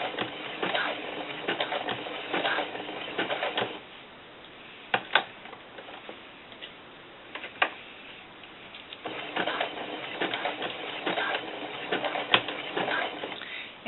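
A sewing machine stitches a small doll tank top in bursts of fast, light mechanical ticking, pausing between runs, close and fairly quiet, with a few isolated clicks in the gaps and no talking.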